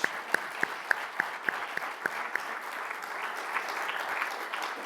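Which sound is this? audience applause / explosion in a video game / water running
audience applause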